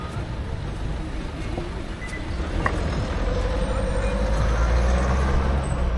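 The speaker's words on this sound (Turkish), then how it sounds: "bir trafik yoğunluğu var" Busy street traffic with a bus passing along İsmetpaşa Caddesi in Karaman, a steady broadband rumble that grows louder toward the end, with a brief brake hiss and some background talk.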